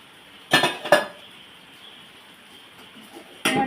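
Metal pots and vessels clink sharply while being washed, three distinct clattering knocks in two quick bursts and a later one, close and fairly loud over a quiet background.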